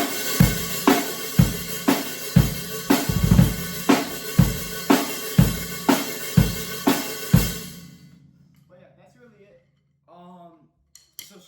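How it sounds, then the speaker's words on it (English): Black metal drum groove with hi-hat triplets, loud and busy with regular heavy hits for about eight seconds, then stopping into near silence with a few faint voice-like sounds. "It's the hi-hat triplets."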